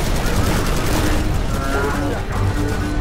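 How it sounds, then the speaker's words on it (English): Enemy gunfire in the video game Halo: Reach rattles as a dense, continuous barrage of loud shots and blasts, with a voice talking through the chaos. "Guys, the enemies are shooting me!"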